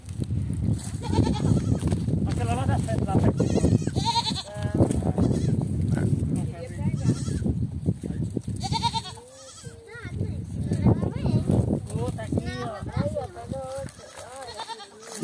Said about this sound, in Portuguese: Lola, mostra a cabra que deu cria de três cabritinhos aí.